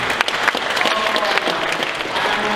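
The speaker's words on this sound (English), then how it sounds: "I do appreciate your applause" A live audience at a psychic entertainment stage show applauds in a sustained, dense burst of many hands clapping, moderately loud, with faint voices mixed in.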